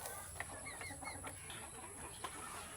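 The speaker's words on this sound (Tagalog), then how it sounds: "Maraming manok po yan." A crowd of chickens clucks on a farm, their overlapping calls steady and moderately close, with a few sharper squawks standing out from the flock.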